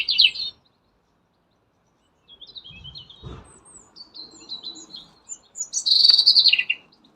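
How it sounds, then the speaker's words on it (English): Small garden birds chirp and tweet in short, bright bursts, several quick phrases near and clear against otherwise quiet surroundings, with a soft thump or two of handling in between. "The birds are proof. You can hear them."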